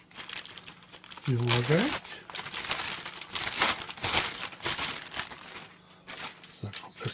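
Plastic protective wrapping and tape being pulled off a new fuser for an HP P4515 printer, giving loud close crinkling and tearing bursts while someone speaks French.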